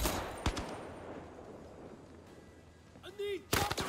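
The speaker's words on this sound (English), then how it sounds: "Shooting coming from." Gunfire in the VR shooter game Zero Caliber, a sharp single shot early on and a loud burst of shots at the end over quiet background, with a short vocal sound just before the final burst.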